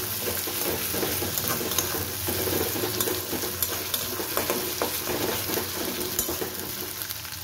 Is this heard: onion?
yes